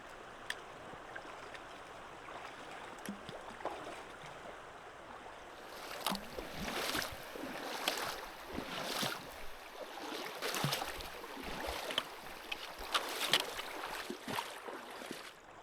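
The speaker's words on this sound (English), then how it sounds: "I can hear the water crossing I would have to do now, just behind those few hills here." Water of a stream crossing flows just beyond a few low hills in autumnal Sarek National Park, a steady broadband rush in the distance, joined midway by louder close splashes and sloshing as someone wades in.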